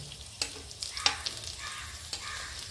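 Potato rolls shallow-frying in oil over a low flame until reddish-brown on both sides, a soft steady sizzle broken by a few sharp spatula taps and scrapes nearby.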